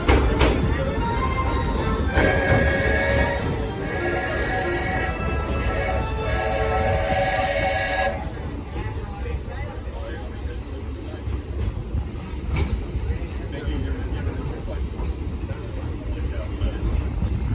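The Walt Disney Railroad train ride at a theme park: a steady rumbling ride noise runs throughout, with tonal whistle-like bands early on, while a narrator talks over it.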